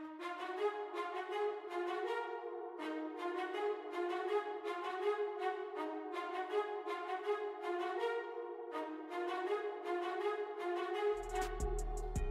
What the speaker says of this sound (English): then we added these spiccato strings and Expand.